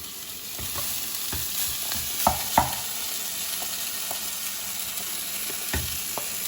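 Cooked rice is mixed into a frying masala in a pan, giving a steady low sizzle with several soft scraping stirs and a couple of louder spoon knocks, with no talking.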